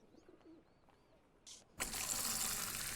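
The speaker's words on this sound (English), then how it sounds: "That's a wonderfully poured pint." A beer tap in a Fable II tavern pours a pint with a sudden broad hiss of flowing liquid that starts after soft bird-like chirps and a brief spurt, continuing steadily and fairly loud to the end.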